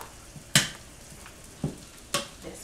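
Cooked cauliflower being mashed in a pot, three distinct soft thuds with scraping at irregular intervals over a quiet background, close by.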